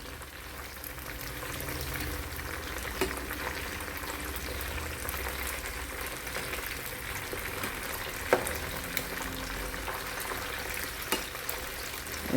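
Chicken lollipops fry in sunflower oil in a pan with a steady, even crackle and sizzle throughout, and a few sharper pops and clicks come from the pieces being turned.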